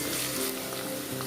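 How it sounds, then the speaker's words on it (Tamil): Slit green chillies sauté with onions in a pan for a chicken white pulao, giving a steady, close sizzle with a low hum underneath and no talking. "அதுவும் வந்து நல்லா வெங்காயத்தோடு வதக்கிக்கலாம்."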